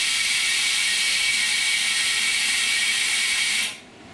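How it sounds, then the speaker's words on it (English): The vacuum pump of a phone screen laminating machine runs with a steady, loud, high-pitched whir for several seconds, then cuts off abruptly near the end. "Here's the vacuum."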